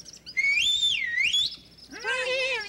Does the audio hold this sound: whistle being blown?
yes